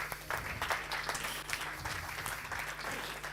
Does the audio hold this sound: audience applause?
yes